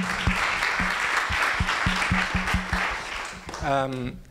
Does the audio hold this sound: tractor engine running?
no